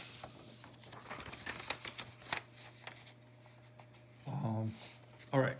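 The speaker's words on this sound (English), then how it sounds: "Another piece of paper." A sheet of paper is handled at a lecture desk during a statistics class, giving soft rustling and crinkling bursts that are louder near the end, with a steady background hum.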